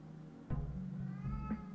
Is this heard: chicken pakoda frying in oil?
no